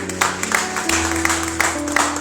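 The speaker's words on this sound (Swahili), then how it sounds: "Jesus, pigia Yesu makofi mazuri." A church congregation applauds for Jesus during Sunday worship, a dense, steady wash of clapping over a sustained musical backing, with one voice briefly audible.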